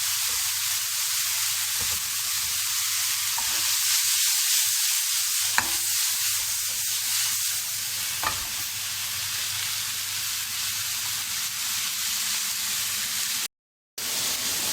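Garlic and tomatoes sautéing in a pan for an Italian-style Alfredo spaghetti sauce make a continuous hissing sizzle with a few sharp spatula taps and a brief dropout near the end.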